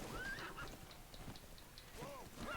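A horse in a video game whinnies twice with rising, wavering calls while light hoof clip-clops tap in a regular beat underneath, all faint and close.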